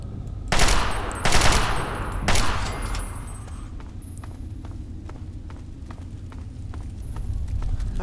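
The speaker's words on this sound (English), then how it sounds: "Carbine size assault rifle." Carbine-size assault rifle fire in Fallout 3, three loud bursts in the first few seconds, then a quieter stretch of faint scattered shots and rumbling ambience.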